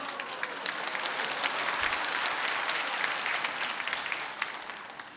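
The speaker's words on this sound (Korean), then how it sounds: "박수 치니까 이상합니다." A crowd claps steadily and fairly loudly for several seconds, a dense patter of many hands that tapers slightly at the end.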